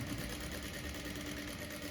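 Sewing machine stitching a blouse back neck design slowly, a steady faint mechanical whir running without pause.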